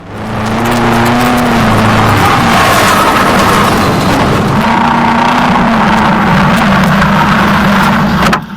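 A Subaru drift car's engine holds a loud, steady drone in third gear through a hairpin at Crail Raceway in Scotland, the pitch sagging and rising as the revs shift, close and continuous.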